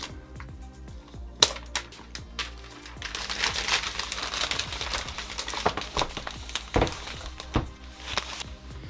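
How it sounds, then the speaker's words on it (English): Apple Magic Keyboard packaging being opened, with pull tabs tearing, crinkling paper, and sharp snaps and thunks of cardboard and plastic, close and intermittent with quieter gaps, and no speech. "Let's go ahead and open up the keyboard and pencil."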